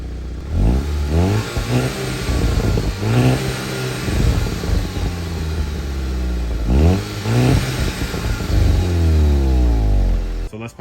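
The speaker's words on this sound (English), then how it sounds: "let's hear what the car sounds like stock" Turbocharged Volkswagen Mk6 GTI engine with stock exhaust revving repeatedly, rising pitch sweeps with throaty exhaust between revs, up close and loud, no talking.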